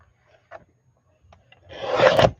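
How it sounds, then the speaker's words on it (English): Paper is trimmed while a journal is being made, heard as a few faint taps and then one close, scraping cut that swells and ends near the end, with no talking. "We need to trim off another 1/4 inch."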